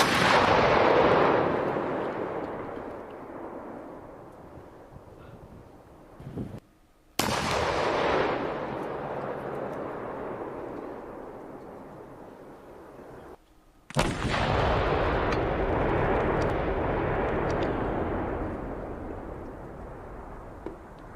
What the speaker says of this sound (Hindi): आसमान में एक गूंज आप सुन सकते हैं।